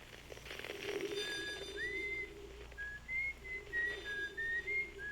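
Faint whistling picked up through a signalscope in the Outer Wilds video game: several short, rising and held whistle notes drift over a soft background hiss, distant and thin.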